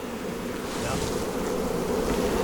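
Honey bees crowd brood frames in an open hive, producing a dense, continuous buzzing drone that stays steady and close throughout, with no talking.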